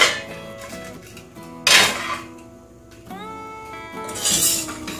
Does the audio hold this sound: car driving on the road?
no